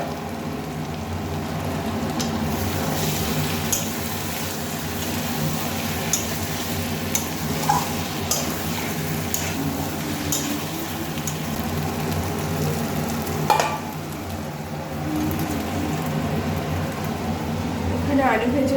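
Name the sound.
marinated chicken being fried and stirred in a pan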